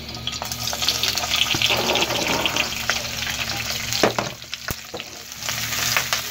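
Capsicum (shimla mirch) frying in four to five tablespoons of hot oil, a loud close sizzle with bursts of crackling and stirring clatter, easing briefly midway before rising again.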